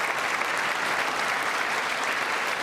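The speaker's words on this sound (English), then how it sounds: "Let's see if the Democrats clap for this one." Democrats in the chamber at a State of the Union address break into dense, continuous applause, a steady wash of many hands clapping heard from a distance.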